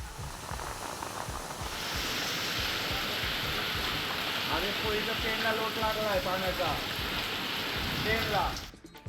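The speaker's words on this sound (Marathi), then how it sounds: "पेणमध्ये तुफान वादळी वाऱ्यासह पाऊस झाला" Steady heavy rain pours down in Pen with a broad rushing hiss, joined by gusty storm wind and a voice talking over it near the end.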